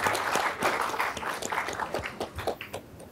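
A room full of people claps steadily, the applause thinning out and tapering toward the end, with no talking over it.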